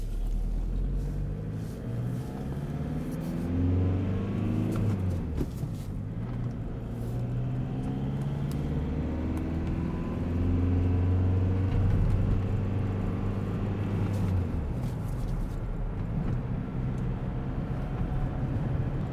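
Steady low engine drone and road rumble from a VW Jetta TDI with a manual transmission and freshly replaced clutch and flywheel, driving along with gear changes heard as shifts in pitch, no talk.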